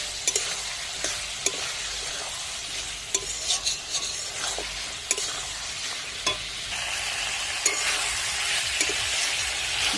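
Meat fries in a pan with meat masala, a steady close sizzle running throughout while a spatula scrapes and stirs in irregular strokes, with no talking.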